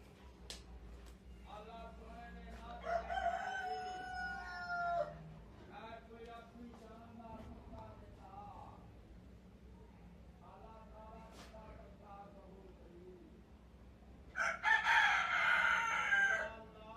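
Roosters crow repeatedly in long, drawn-out calls, nearby and fairly loud, with clucking between crows and a final loud crow at the end.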